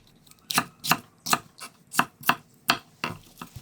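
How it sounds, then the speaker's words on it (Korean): Knife chopping chili peppers into roughly 1 cm pieces on a cutting board for cucumber pickles, eight crisp, evenly spaced chops close up with no talk. "고추를 땀박땀박 썰어주세요"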